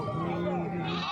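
Large sheep bleat at a weekly sheep-and-goat market in Galiveedu, with wavering bleats close by, mixed with continuous talk and crowd noise.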